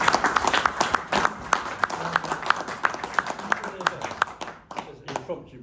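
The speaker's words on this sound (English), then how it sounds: "Impromptu round of applause shows how much they love you, Wild." An impromptu round of applause at a lunch gathering, a small group clapping briskly in an uneven patter that fades out near the end, with voices mixed in.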